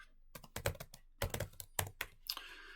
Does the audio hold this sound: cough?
no